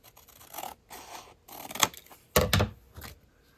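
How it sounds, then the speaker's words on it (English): Scissors snipping through paper in several separate cuts, irregular bursts of crisp rasping with short pauses between, close by with no talking. "I'll just do that with my scissors."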